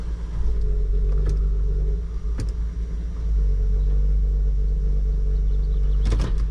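A parked car's engine runs as its automatic transmission is shifted through the gears, giving a loud, steady low rumble with a few brief clicks and knocks. No one speaks.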